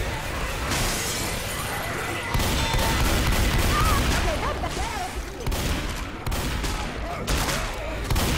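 Gunfire rattles in a Left 4 Dead 2 versus match, with dense loud bursts of shots and sharp cracks coming in waves, and faint voices mixed in.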